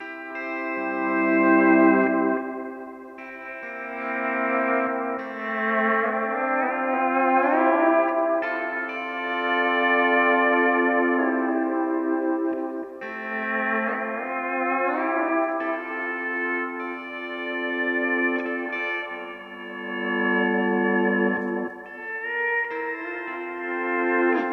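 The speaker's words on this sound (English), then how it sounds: "We're going to put it back on the middle one, which is spring, which is just a basic straight up reverb sound." Pedal steel guitar played through a Keeley Caverns delay-reverb pedal on its spring setting, sustained sliding chords and swelling harmonies ringing with a washy spring reverb tail, loud and continuous with no talking.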